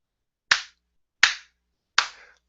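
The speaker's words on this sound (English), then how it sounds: "Golf clap, Stephen" Three slow, separate claps, each sharp and close, spaced well apart in deliberate sarcastic golf-clap fashion, with silence between them.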